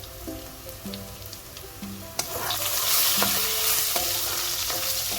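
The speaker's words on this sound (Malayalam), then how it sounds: "നമുക്കൊന്ന് ഇളക്കി കൊടുക്കാവേ." Ingredients frying in a pan are stirred, a steady close sizzle broken by scraping spoon strokes and light clinks, swelling louder midway as more goes into the hot pan.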